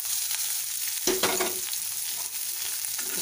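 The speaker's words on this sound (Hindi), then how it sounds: "हमारी ग्रीन चिली अच्छे से ब्राउन हो चुकी है, इसमें हम हमारी चौलाई की फली ऐड कर देते हैं।" Cowpea beans drop into a pan of browned green chilies, giving a sudden sizzling burst that settles into a continuous low frying hiss with stirring, and no talking.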